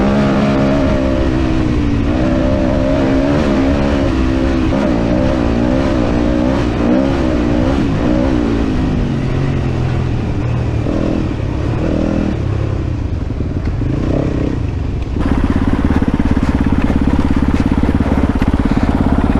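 A Kove FSE 450 R Rally motorcycle is ridden on open flowing terrain, its engine droning steadily with shifting pitch as the rider rolls on and off the throttle, then surging louder and fuller near the end.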